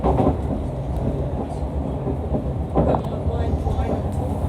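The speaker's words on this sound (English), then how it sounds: "This is the train to Enfield Town." A London Overground train bound for Enfield Town rumbles along the line near Bruce Grove, a steady low roar of wheels and carriage heard from inside, with occasional rattles and clunks.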